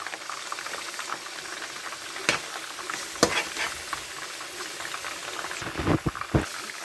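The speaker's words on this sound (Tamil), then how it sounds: "இப்போ நல்லா இந்த பச்சை வாசனையெல்லாம் போக வதங்க விடலாம்" Onion, masala and ground mint sizzle and fry in a pot for mutton biryani, with a steady crackle throughout and a few sharper stirring clatters, close and moderately loud.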